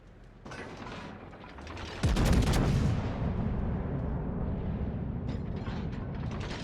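Anti-aircraft defensive fire in World of Warships erupts as a loud, sudden booming barrage after a quieter start, then settles into a sustained rumbling roar of guns.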